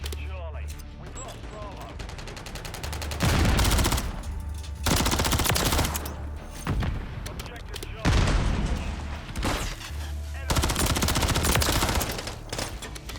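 Rapid automatic gunfire from a Modern Warfare 3 match comes in loud repeated bursts, several long volleys broken by brief pauses, with a player's voice talking over the action.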